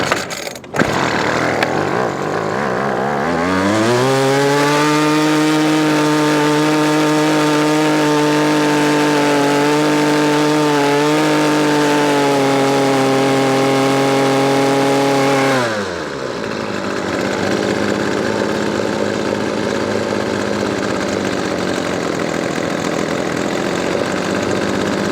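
A Weedeater Feather SST25 string trimmer engine comes up from a rough idle into a loud, close, steady high rev that holds for about twelve seconds, then drops back to a lower running idle.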